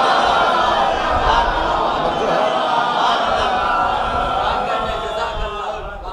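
A mosque congregation at a chehlum majlis chants salawat in unison in response to a call, a dense, loud wash of many voices sustained throughout and slowly tapering at the end.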